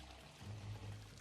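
A water bottle fills in Project Zomboid, a faint short pouring stream of water that runs briefly and steadily.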